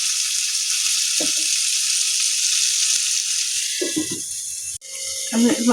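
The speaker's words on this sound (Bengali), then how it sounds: "ভালো মতো করে একটু আলু আর পটলটাকে হালকা করে একটু ভেজে নেব" Potatoes and pointed gourd fry in oil with a steady, loud, close hiss that carries through the whole stretch, broken by brief clanks of a utensil near the end.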